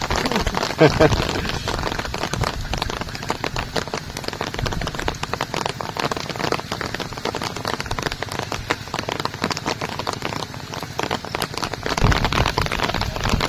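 Heavy torrential rain pours at the mouth of a large river, a dense, loud and unbroken wash of drops hammering surfaces throughout, with a voice talking faintly beneath it.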